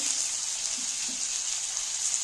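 Bengali spice paste of ginger-cumin paste, turmeric, chili powder and green chilies frying in a pan for fish head and potato curry, a steady faint hiss and sizzle with soft occasional stirring, no voices.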